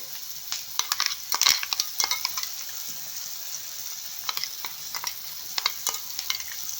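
Onions and ginger paste fry in a pan for egg fried rice, a steady crackling sizzle with scattered sharp pops and occasional stirring scrapes, close and moderately loud, no talk.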